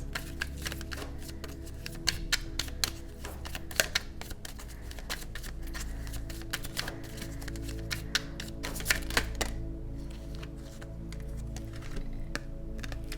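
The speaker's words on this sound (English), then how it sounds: "So we're gonna pull an abundance card" Cards are shuffled and handled while one abundance card is pulled from a deck, giving soft crisp flicks and taps in irregular bursts, close and fairly quiet.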